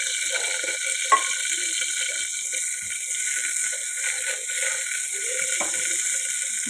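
Mustard seeds and cumin go into hot oil and give a soft, steady sizzling hiss with a few scattered pops and crackles. It stays fairly quiet and close throughout, with no talking.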